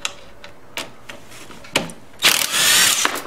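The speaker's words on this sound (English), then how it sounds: "you're gonna grab your 10 mm socket" A ratchet fitted with a 10 mm socket clicks in a few short bursts while installing an intake kit, followed by a longer, louder buzzing ratchet run close by.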